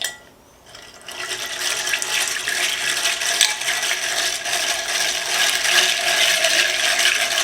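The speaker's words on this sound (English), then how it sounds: "I'm going to use my vintage egg beater to beat the egg whites." A vintage hand-cranked egg beater whips egg whites in a glass bowl, a steady, close, rushing whir with a light rattle that starts after a brief quiet moment and holds level to the end.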